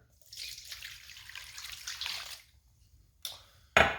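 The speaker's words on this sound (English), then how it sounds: "take a cup and a half of lukewarm water" Lukewarm water poured into a bowl for white bread dough, a steady splashing stream of about two seconds, then a short pause and two brief bright splashes near the end, close and fairly quiet with no talk.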